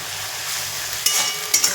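Onion and ginger-garlic paste with green chilli sizzle steadily in a hot pan for a chicken kosha curry, with a couple of sharper spatula scrapes and stirs near the end.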